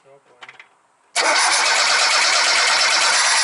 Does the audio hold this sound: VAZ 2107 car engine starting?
yes